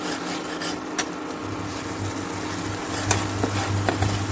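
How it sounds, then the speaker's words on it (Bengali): Spices (turmeric, cumin powder, coriander powder, bay leaf) being stirred in a cooking pan for Bengali-style potato curry, with soft scraping and a low steady sizzle, a few sharper clinks near the end. "একটু কিছু সময় নাড়তে থাকবো"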